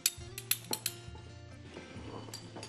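Ceramic plates clink and clatter as they are set out to serve a potato and bean salad, with a few sharp knocks at the start and softer handling after.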